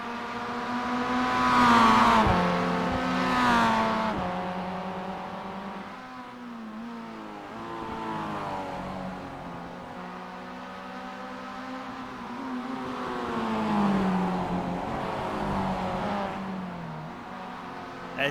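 Spec Miata race cars race in a night sprint, their engine notes rising and falling through gear changes, loud and fairly close, with overlapping drones from several cars.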